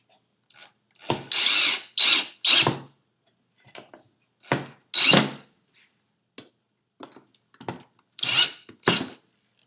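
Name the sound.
power drill driving screws into wood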